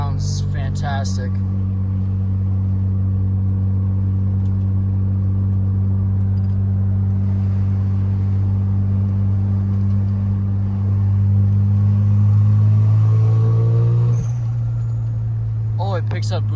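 A Mazda RX7 FC turbo with a 3-inch catless downpipe drones steadily, then swells louder as it passes by and fades, with people talking around it.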